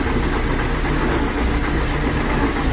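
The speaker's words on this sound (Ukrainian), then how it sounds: "А я їду юмзом сівалкою." A YuMZ tractor engine runs steadily while pulling a seeder sowing soybeans, a loud, continuous close-up diesel drone with constant vibration throughout.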